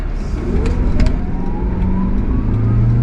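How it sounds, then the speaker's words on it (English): Mitsubishi Townbox kei van accelerating, its small engine droning loud and steady from inside the cabin, pitch rising gradually as it pulls, with a few faint clicks mixed in. "let's accelerate right now. See what this is like."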